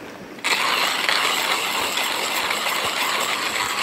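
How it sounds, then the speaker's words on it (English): A hand grinder crushes 20 grams of coffee beans at a camp outdoors, starting abruptly and then running as a loud, continuous crunching rasp with a faint ratcheting texture, close up and without speech. "I know that right up to these lines inside this grinder, 20 grams, so that's how much I'm going to grind."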